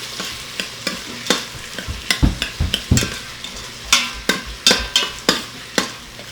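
A medium tomato sautés with pink lentils in an Instant Pot, with a soft sizzle under repeated sharp scrapes and taps of a stirring spoon, close and clear with no talking.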